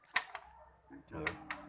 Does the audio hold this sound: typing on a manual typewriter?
yes